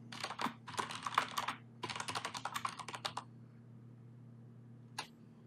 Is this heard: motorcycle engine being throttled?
no